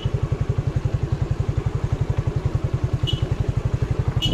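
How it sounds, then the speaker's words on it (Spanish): A motorcycle engine putters steadily at low revs with an even, fast thumping rhythm, close by, as if coasting downhill. "así que vamos a bajar en la moto."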